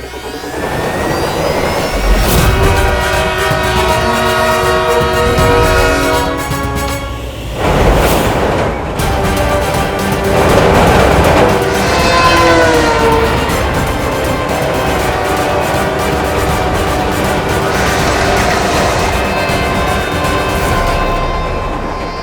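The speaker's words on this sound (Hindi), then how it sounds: "कहीं ट्रेन ने बालवीर को कुचल दिया तो?" A train rushes past in a loud, continuous roar with long sustained horn-like tones rising and falling throughout, dense and close, no voices.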